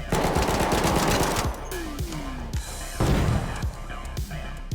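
Rapid automatic gunfire from a weapon in the Arc Raiders video game, loud and close, with dense bursts of shots and a few heavier impacts cutting through.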